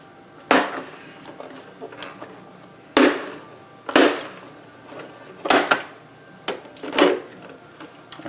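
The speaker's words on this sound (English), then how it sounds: "So I'm going to start by popping out the LED ring." A Ninebot One electric unicycle's LED ring is pried out of its plastic outer ring by hand, giving a series of sharp, close plastic snaps and clunks spaced about a second apart, with quiet gaps between.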